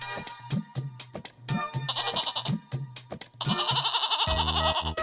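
A goat bleats repeatedly in a Hindi animated story, short nasal calls mixed with background music and sound effects, loud and close.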